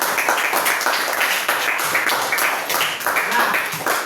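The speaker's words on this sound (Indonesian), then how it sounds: "Oke, tepuk tangan dulu sekali lagi" A classroom full of students claps together in a steady, continuous round of applause lasting several seconds, with voices mixed in.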